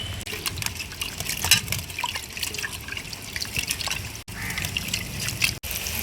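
Tap water runs and splashes steadily while dried prawns are cleaned by hand in a sink, with small drips and clatters close by and no talk.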